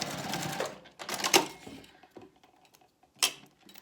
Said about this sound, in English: I'm going to stitch right here, a few back and forth stitches just to secure it in place.